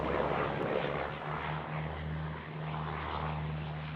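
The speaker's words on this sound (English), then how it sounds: "We got Rex 6955 just touched down here on 34 right, coming in from Armidale in country New South Wales." A Rex Airlines turboprop plane touching down on runway 34 right at Sydney Airport hums steadily with a droning propeller tone, moderately distant and even throughout, with no voices.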